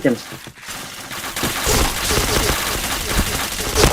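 Rapid gunfire in a multiplayer shooter video game, dense bursts of shots over a busy game mix while players talk over the action.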